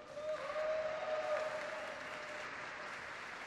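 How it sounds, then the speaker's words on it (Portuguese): An audience at a formal legislative ceremony honouring Black Latin American and Caribbean women breaks into steady applause, a dense wash of many hands that stays fairly even and somewhat distant. "Uma salva de palmas, por favor."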